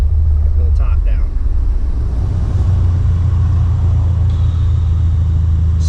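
A convertible drives with its top down, a loud steady engine rumble mixed with heavy wind buffeting that runs throughout.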